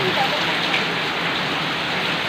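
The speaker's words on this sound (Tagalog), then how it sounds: "Sakto umulan." Steady rain falls on surfaces, a loud, dense and unbroken hiss of drops that continues evenly throughout.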